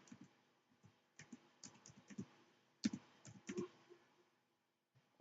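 Someone types a VNC password on a computer keyboard, giving a quiet, irregular run of close key clicks with short pauses between bursts.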